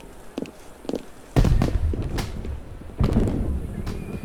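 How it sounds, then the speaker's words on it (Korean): Daytime fireworks in Assassin's Creed Unity: two loud booming bursts with crackling tails follow a few lighter thuds, all heard fairly close, with game voices in the background. "대낮에 폭죽을 했어"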